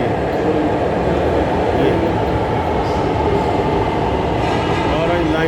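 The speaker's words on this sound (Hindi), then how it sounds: "ये जो ट्रेन है ऑरेंज ट्रेन" Orange Line metro train in Lahore, a steady loud rumble of the carriage running throughout with faint squeal near the end, while someone speaks briefly over it.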